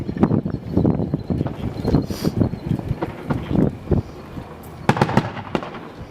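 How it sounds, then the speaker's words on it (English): Rifle gunfire from US Marines clearing an insurgent stronghold in Kajaki, Afghanistan, crackling in repeated loud shots, some close and sharp, others more distant, in an irregular rhythm with no talking. "Matt's shooting right now"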